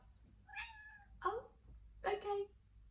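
A pet cat meows indoors, giving three short, distinct mews with pauses between them, close and fairly clear against a quiet room background.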